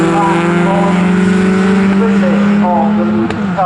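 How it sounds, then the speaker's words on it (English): MG Cup race cars accelerate hard across the line at Snetterton circuit, a loud sustained engine drone rising in pitch, with a commentator talking over it. "right back with Jack Ashton as they accelerate across the line."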